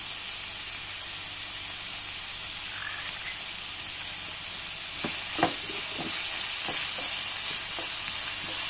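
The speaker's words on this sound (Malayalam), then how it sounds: "നല്ല പോലെ നോക്കിയിട്ടൊന്ന് വഴറ്റിയെടുക്കണം." Finely chopped vegetables and carrot sauté in a pan, with a steady soft sizzle throughout and clearer stirring scrapes and clicks toward the end, close and moderately loud.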